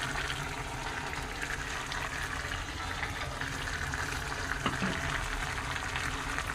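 Mutton and cucumber curry bubbles in a pan as its water cooks off, a continuous moderate hiss and simmer with a small clink near the end and no talk.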